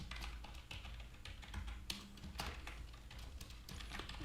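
Quiet, rapid keystrokes on a computer keyboard as C++ code for a text RPG is typed, the clicks coming in an uneven, continuous run.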